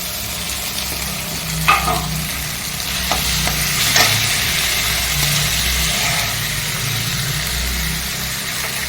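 Green chillies and tomato frying in a pan give a loud, continuous sizzle, broken by a few gentle stirring scrapes and clinks, with a low rumble in the background.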